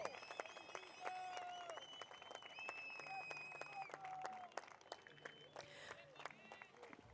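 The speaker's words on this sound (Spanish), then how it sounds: "Más aplausos para Joaquín, por favor." Distant crowd applause on the beach for runner-up Joaquín Soto at the Iquique Bodyboard Pro 2024 final, faint and scattered beneath someone talking over a PA.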